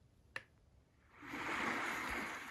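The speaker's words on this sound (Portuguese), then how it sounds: "Que faz barulho de mar." White noise machine playing ocean surf sounds in a child's bedroom, switching on after a brief click and settling into a steady, soft wash of rolling waves, fairly quiet and unaccompanied by talk.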